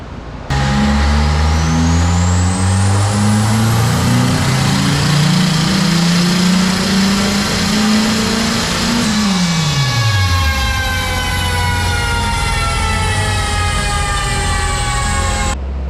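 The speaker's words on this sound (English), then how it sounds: "I'm not talking too much inside the dyno because that one fan sounds like a straight up jet" A turbocharged K24 Honda EK sedan on a dyno revs up in a long, loud pull, then drops off as the engine winds down. A high, whining fan roars steadily underneath the whole time.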